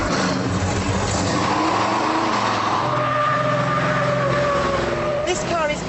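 A General Lee muscle car, a 2¼-ton, 375-horsepower American V8, drives past with a throaty engine drone and shifting revs, audible under a voice talking throughout.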